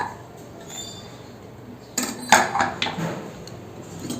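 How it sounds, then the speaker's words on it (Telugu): A steel pressure cooker of toor dal with spinach and tomato is opened and the lentils are stirred with a metal spoon. Quiet at first, then a burst of sharp metallic clinks and scrapes comes up close. "కుక్కర్ ప్రెషర్ వెళ్ళిపోయింది ఇప్పుడు మనం ఓపెన్ చేసి మిక్స్ చేసుకుందాం"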